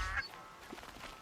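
A goose in the video game Horizon Zero Dawn gives a short honk at the start, followed by quiet game ambience.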